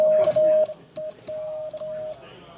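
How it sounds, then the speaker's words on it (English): Morse code CQ keyed on a semi-automatic bug key, a steady single tone broken into uneven dots and dashes with a swinging rhythm, heard close amid faint background chatter. "So if I would call CQ"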